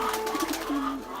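Pigeons coo in a short, soft burst of low rolling calls, close by over a faint background hum.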